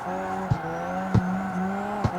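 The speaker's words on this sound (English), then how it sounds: "I kind of miss the simplicity of the drifting in this game." A car drifting sideways in a racing video game, steady engine drone with tire squeal, and three short sharp bumps or shifts punctuating the slide, loud and close with no talking.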